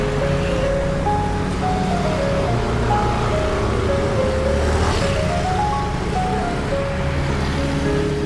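Dense night street traffic in Ubud, Bali, with many vehicles passing close by in a continuous loud roar as engine tones rise and fall across the whole stretch, and no speech.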